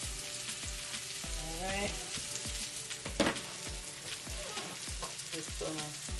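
A black bean burger sizzles in oil in a pan, a dense, steady crackle and spitting with occasional louder pops, close up; a voice speaks briefly.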